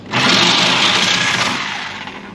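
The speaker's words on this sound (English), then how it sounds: "I'm just going to get my Sawzall, cut down in there like butter." A Sawzall reciprocating saw cutting through suspension metal on a 1964 Ford Falcon, a loud, steady, buzzing mechanical drone held for a couple of seconds, close up.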